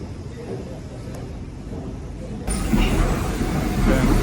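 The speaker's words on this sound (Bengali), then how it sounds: "এইখানে ওয়েট করি লেটসি কতক্ষণে ট্রেন আসে" A train pulls into a London station, its rumble growing suddenly louder midway through as it nears, steady and fairly close with no talk over it.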